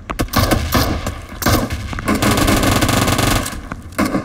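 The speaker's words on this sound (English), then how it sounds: "Oh crap, I'm getting shot at." Loud, sustained automatic gunfire from PUBG Mobile gameplay, rapid bursts almost back-to-back with only short gaps, sounding close and dominant throughout.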